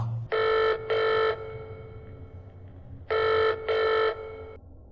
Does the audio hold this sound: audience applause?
no